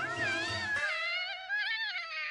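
Siamese cat meowing in a cartoon, a long, drawn-out, wavering meow, clear and fairly quiet, following a brief low rumble at the start.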